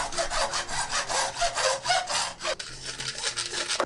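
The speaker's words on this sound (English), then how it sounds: "We just need to trim down the PVC a little bit and it should fit like a glove." A hand saw trims a length of PVC pipe, cutting with steady back-and-forth strokes heard up close. The strokes come quickly at first, then turn lighter and more scattered near the end.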